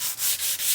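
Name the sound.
sanding a Hyundai car panel with 320 grit sandpaper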